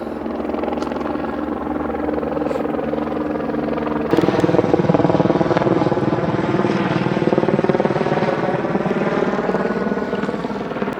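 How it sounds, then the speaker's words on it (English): A helicopter flies directly overhead, its steady rotor thrum and engine whine holding loud and close, then growing a bit louder partway through. No one speaks. "Got that helicopter right overhead again."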